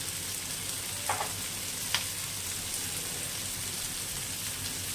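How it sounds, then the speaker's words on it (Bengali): Onion, garlic, ginger, tomato and green chilli fry in a pan with a continuous moderate sizzle, with two brief sharper crackles or stirring touches early on. "হালকা ফ্রাই হয়ে গেছে পেঁয়াজ রসুন আদা টমেটো কাঁচা লঙ্কা"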